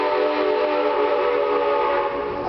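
A train rolls past with a sustained, loud whistle that holds steady throughout over a continuous rumble, with no talking.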